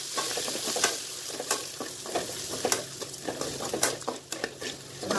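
Onions sautéing in a pan until browned, a steady close sizzle and frying crackle broken by repeated scraping stirs of a utensil against the pan, with no talking.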